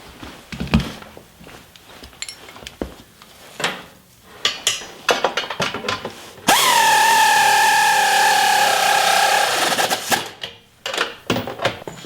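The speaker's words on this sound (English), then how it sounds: "now I can tighten down all the bolts on the pinch seam" A power tool runs in one sustained, loud whine for a few seconds while tightening the bolts on a vehicle's pinch seam during a rock slider install, framed by scattered clanks and handling noises before and after.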